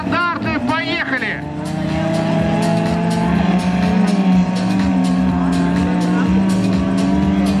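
Rally cars launch from the start of a race heat, engines roaring and revving loudly with sharp pitch sweeps as they pull away, a continuous dense roar close by, with a brief rising whine at the beginning.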